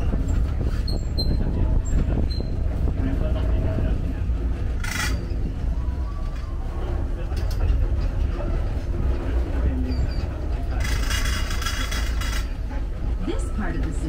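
A zoo tram at Singapore Zoo runs with a steady, loud rumble and rolling mechanical noise throughout, with brief higher squeals and background voices mixed in.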